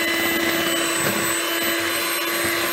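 An electric hand mixer whirs steadily as it beats sweet potato squares batter in a bowl, a continuous close buzzing drone with no talk over it.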